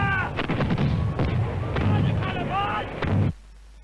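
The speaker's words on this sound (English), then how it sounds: "The rebel cannon have opened fire." Cannon fire from the Jacobite rebel guns at the Battle of Culloden in 1746, a dense run of loud booming shots close together over rumbling battlefield noise, ending abruptly.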